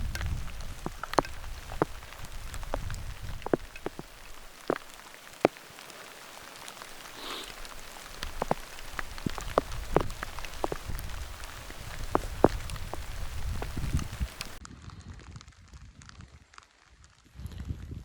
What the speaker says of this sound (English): So this little light rain, I'm just going to let it hit me.